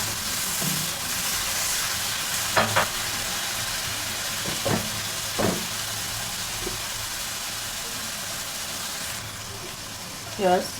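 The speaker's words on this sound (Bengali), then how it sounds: "আলুগুলো দিয়ে দেবো, নাড়াচাড়া করে" Potatoes are stirred into chicken curry frying in a pan, with a steady hiss of sizzling and a few clear scrapes and knocks of a spoon, one louder clatter near the end.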